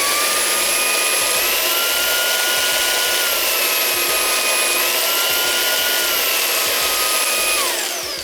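Shark cordless wand vacuum motor whining loudly and steadily up close, its tone shifting upward as the boost setting speeds it up, then winding down at the end with no talking.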